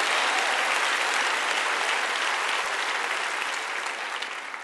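Church congregation applauding steadily, a dense wash of clapping from many hands throughout, easing slightly toward the end with no talk over it.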